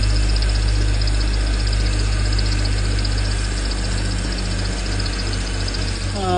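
A BMW Z4 with the M54 engine runs steadily after an auxiliary belt replacement, a close, loud and continuous idle with an even hum and no pauses throughout.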